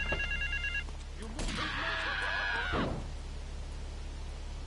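Telephone ringing at a park payphone in Grand Theft Auto III: The Definitive Edition, a brief electronic ring burst followed by a longer warbling tone over steady low background hum.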